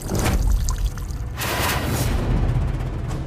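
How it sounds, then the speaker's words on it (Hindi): Water from a household tap begins gushing in a steady, noisy stream that keeps running without a break. "लगता है पानी आ गया, मेरे को आवाज आ रही है।"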